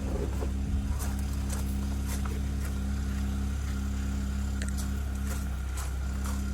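A Ford Escape engine idles after a remote start, a steady, low hum that stays constant and moderately quiet throughout with no talk.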